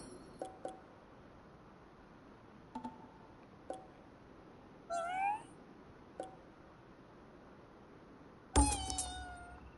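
In the video game Ghostwire: Tokyo, a cat gives a short, quiet, rising meow amid scattered soft clicks and ticks, with a louder burst of game sounds near the end.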